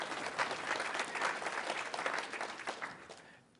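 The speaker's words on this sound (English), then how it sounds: "You can clap." Conference audience at the 2012 Manning Conference applauds steadily for several seconds, a dense patter of many hands that fades out at the end, with no talking over it.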